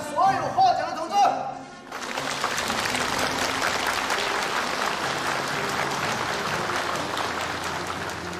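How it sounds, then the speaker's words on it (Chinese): Warm, sustained applause from an assembled crowd honoring award winners, a dense roar of clapping that follows a brief spoken announcement and fills the rest of the moment evenly. "下面我们以最最热烈的掌声，祝贺刚才所有获奖的同志！"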